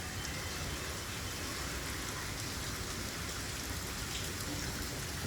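Steady monsoon rain pours down in Kerala, a dense continuous hiss of drops drumming on surfaces, even and unbroken throughout with no voices.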